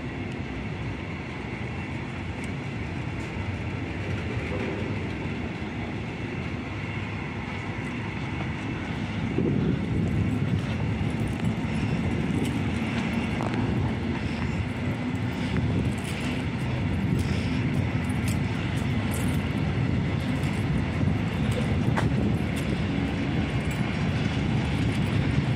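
Freight train of tank cars hauled by a yellow privately owned electric locomotive, class 193, passing on track 2 at a station: a steady rumbling roll that grows louder partway through and stays heavy, with faint clattering over the rails.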